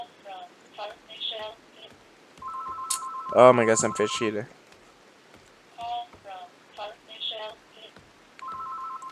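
A telephone rings in steady repeated tones during a computer game session, heard under and between close male speech in French, with a loud burst of exclamation in the middle.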